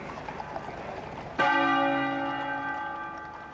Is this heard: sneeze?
no